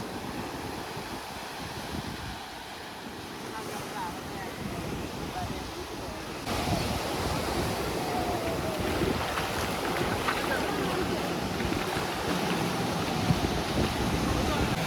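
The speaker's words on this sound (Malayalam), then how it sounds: "ഒരു സ്പീഡ് ബോട്ട് വരുന്നുണ്ട്." A speed boat runs out on the sea off Kovalam beach, its engine drone rising and growing louder midway, mixed with strong wind buffeting the microphone and the wash of waves.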